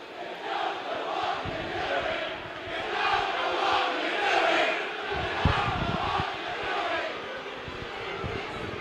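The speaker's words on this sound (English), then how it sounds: "the crowd giving their opinion of the referee" A football stadium crowd at a Chesterfield FC match jeers and roars at the referee, a broad sustained wash of many voices rising and falling, with a commentator's voice faintly underneath.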